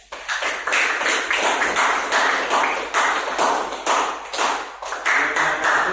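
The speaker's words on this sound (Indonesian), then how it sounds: "Nah, tolong tepuk tangan untuk" A class applauds a student group after their presentation, quick claps with brief swells and dips forming steady, moderately loud, fairly close clapping throughout.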